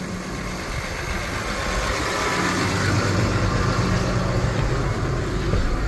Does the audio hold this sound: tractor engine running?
yes